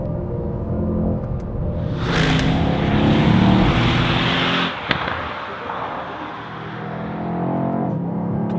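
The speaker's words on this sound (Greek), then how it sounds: "Είναι το ίδιο τετράλιτρο V8 της AMG, εξελιγμένο στην κορυφαία εκδοχή." A Mercedes-AMG car with a four-litre V8 drives hard, its loud continuous engine roar building to a peak with a sharp pop or crackle midway, then settling into a steady drone with no talk.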